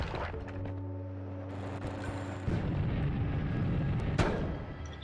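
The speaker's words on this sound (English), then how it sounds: "Didn't quite mean to chuck a bomb" A bomb blowing up in the video game Noita, a heavy rumbling boom that swells over sustained crackling fire and debris, with a sharp burst near the end.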